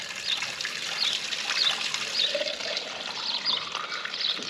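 Steady water trickling and splashing from an outdoor street pump in France, a continuous hissy flow heard up close with no voices.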